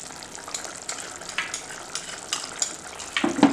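Cashew paste dropped into hot masala for paneer butter masala, giving a close, continuous sizzle and frying hiss with stirring scrapes that grow louder toward the end.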